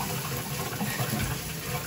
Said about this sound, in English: This is every time you turn the tub on.